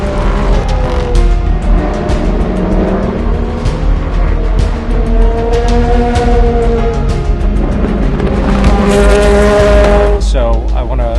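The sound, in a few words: endurance race cars at race start, Le Castellet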